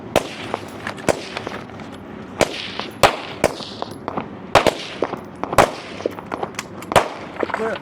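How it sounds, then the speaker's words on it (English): Rifle shots at a competition stage aimed at a triangle target crack out in an irregular series, sharp loud reports with ringing metallic hits in between, some spaced and some in quick pairs. "Working on the working on the rifle, and they have one triangle target that they have to get their shots into."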